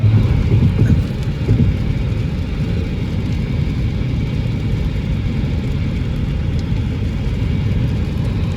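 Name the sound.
rain falling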